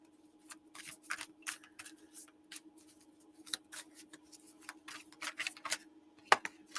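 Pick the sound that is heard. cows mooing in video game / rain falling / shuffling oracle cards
shuffling oracle cards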